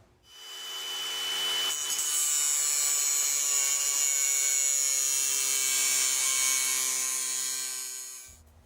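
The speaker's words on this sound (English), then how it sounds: "let's cut this AC Delco plug down the middle" An AC Delco spark plug is cut down the middle, a loud, steady whining grind with a ringing tone that holds for about seven seconds and then stops abruptly.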